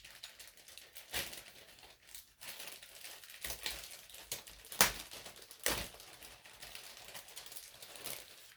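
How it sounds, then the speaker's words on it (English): A plastic bag holding model kit parts for a 1:1000 scale Enterprise is cut open, with crinkling and sharp snips and rustles coming at irregular intervals, close and fairly quiet. "Let me just cut the bag here."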